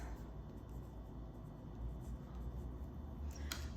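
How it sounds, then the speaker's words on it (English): Pen writing in a paper teacher lesson planner, faint close scratching strokes that run continuously and quietly, with no voice. "I'll write planning days"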